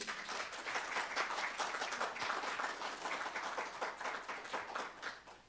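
Audience at a national reparations convention breaking into applause, a sustained patter of many hands clapping at a moderate distance, steady and fairly faint, with a few slightly sharper claps and no clear cheering voices.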